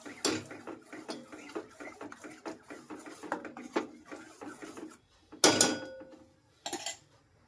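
Cooked chickpeas being stirred in a pot of masala, giving a run of scraping, clinking spoon-on-metal strokes in quick succession, then two louder clanks near the end.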